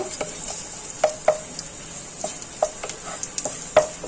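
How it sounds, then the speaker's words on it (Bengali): Garlic sizzles steadily in oil in a pan while a utensil stirs, with sharp scraping clicks scattered through the frying. "ভাজা ভাজা করব রসুনটা একটু যাতে রসুনের গন্ধটা ছেড়ে যায়"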